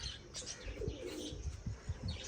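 Soft pigeon coos and a few faint chirps sound nearby over quiet background noise, with a brief flutter of wings.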